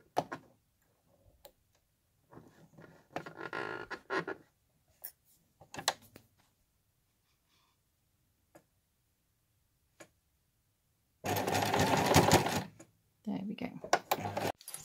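A sewing machine finishes stitching a quilted scissor case in one short, loud whirring burst of about a second and a half. Earlier come quiet talk and light clicks of fabric handling.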